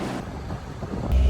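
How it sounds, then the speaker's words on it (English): A sailboat's engine runs on a motoring passage in Pittwater with the mainsail up, a steady low drone with wind buffeting the microphone, swelling louder near the end. "Right, sorry about the noise of the engine."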